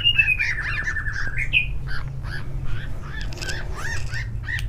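A female trucukan bulbul calls while being held in the hand, giving a descending whistled note followed by a run of short chirps and squawks, close and clear over a steady low background hum.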